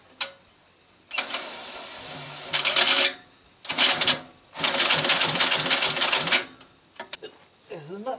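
An air impact gun hammers at an exhaust manifold nut on a 1959 GMC truck, loud rattling bursts of varying length separated by short pauses, with brief voices between them.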